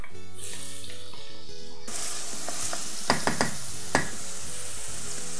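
Sliced garlic and onion frying in oil in a pan, a steady close sizzle with a few sharp clinks and scrapes from stirring utensils partway through.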